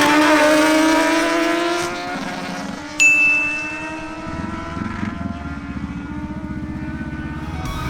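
Kawasaki Z1000 and Kawasaki Ninja Z1000SX motorcycles at a drag race, loud rising engine howl that drops off, a sharp ding near the middle, then a steady lower engine drone.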